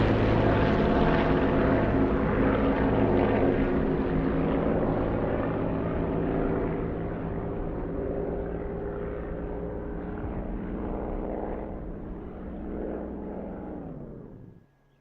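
A propeller aircraft flies past in the DCS flight simulator, a loud droning engine roar that slowly fades and drops in pitch as it moves away, cutting off at the end.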